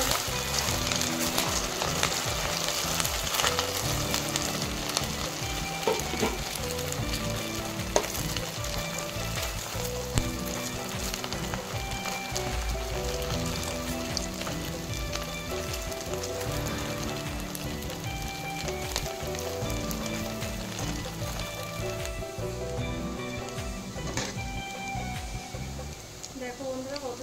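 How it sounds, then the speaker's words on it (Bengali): Semolina gulab jamun balls fry in hot oil with a steady, rain-like sizzle and bubbling that runs throughout, while someone talks over the cooking. "দেখো বন্ধুরা কত সুন্দর ভাজা হচ্ছে"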